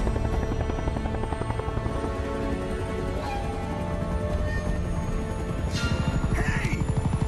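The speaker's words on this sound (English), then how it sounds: "that helicopter is lifting off very slowly" A helicopter lifts off slowly in the video game Uncharted: Drake's Fortune, its rotor giving a loud, fast, steady chopping thud with a constant engine whine, close and continuous throughout.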